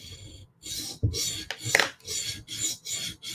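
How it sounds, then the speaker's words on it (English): A knife edge being sharpened, one side at a time, in a run of about seven steady rasping strokes with short pauses between them, close and fairly loud with no talking. "Here I sharpen this side."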